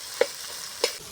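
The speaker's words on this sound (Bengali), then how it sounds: "এভাবে ভেঙে দেবো আলুগুলোকে।" Boiled elephant-foot yam being mashed in a pot with a little water: two sharp, close knocks about half a second apart over a faint background hiss, with no voices.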